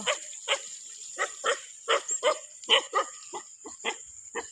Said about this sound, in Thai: จะเห่าแม่ทำไมลูก